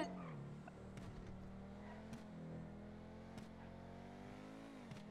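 A car engine in GTA V Online revs and drones with shifting pitch, punctuated by a few sharp bursts, fairly quiet and with no talking.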